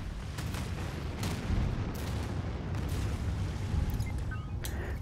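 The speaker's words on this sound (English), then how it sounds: "Let's drop some nuclear missiles there." Nuclear missile strikes hit in Anno 2205, a run of deep explosive booms and crackling blasts over a continuous heavy rumble, with several distinct impacts spread across the stretch.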